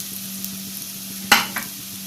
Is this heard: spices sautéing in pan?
yes